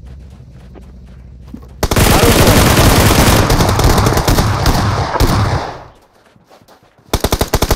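Heavy, sustained automatic gunfire from the BGMI battle-royale game during a scrim match, loud bursts with a brief lull before a renewed rattle of shots.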